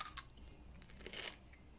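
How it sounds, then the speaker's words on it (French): Someone bites into a crunchy salt-fermented pickle, giving a sharp crisp crunch and then soft, close chewing, quiet and without talk. "je vais croquer un bout."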